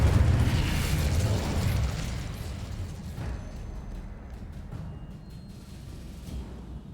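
An Incendio fire spell blasts in Hogwarts Legacy, a loud low boom with a rumbling whoosh at the start that decays into a fading crackling tail over several seconds.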